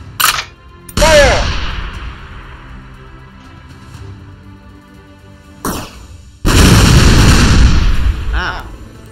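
In the artillery video game Shellshock Live, a tank fires with loud booming blasts, one sharp shot followed by a long decaying rumble, then a later heavy explosion that roars for a few seconds, with brief game sound effects between.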